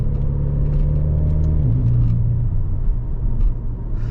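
A 2017 Alfa Romeo Ti Lusso with all-wheel drive and a muffler delete drives along. Its exhaust drones in a loud, close, steady rumble, and partway through the pitch drops as if the revs fall or the car shifts gear.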